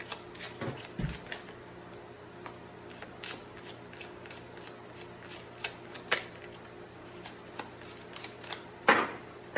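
Tarot cards are shuffled and drawn during a reading: a string of soft, crisp riffling clicks and flicks, irregular and close, with a louder flurry of card slaps near the end and no talking.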